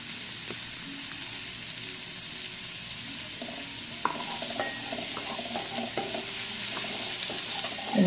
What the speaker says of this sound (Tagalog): mix lang po tayo dyan. Until maluto talaga yung mga vegetables.